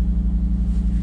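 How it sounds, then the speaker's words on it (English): An Audi RS3 engine burbling just after startup, a deep close pulsing idle with a steady low throb repeating several times a second, heard alone. "on startup, that initial burble is just crazy"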